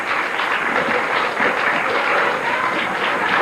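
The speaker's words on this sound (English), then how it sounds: "nice round of applause here for Donna McCaskill" A crowd at a women's candlepin bowling match applauds a bowler, a dense, even round of clapping that fills the whole stretch at full strength.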